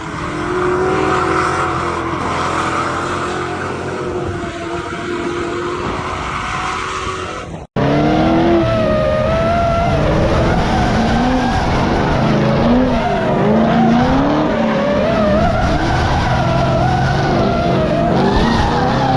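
An SN95 Ford Mustang drifting, its engine roaring loudly and continuously with squealing tires over nearly twenty seconds, a brief cut around the middle before the sustained howl resumes.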